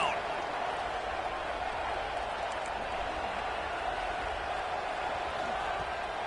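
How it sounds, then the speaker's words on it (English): Stadium crowd at a college football game between Florida and Ole Miss roars steadily on third down, a dense continuous wash of cheering with no breaks, heard from within the stands. "Crowd getting this defense whipped up on third down."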